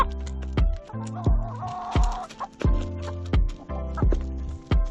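Hens cluck softly and repeatedly nearby while eating feed, mixed with sharp pecking taps on a hard surface at an uneven rhythm.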